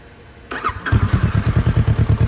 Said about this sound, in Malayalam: നമുക്ക് എക്സോസ്റ്റിൻ്റെ സൗണ്ടും കാര്യങ്ങളൊക്കെ മനോഹരമായിട്ടുള്ള സൗണ്ടാണ്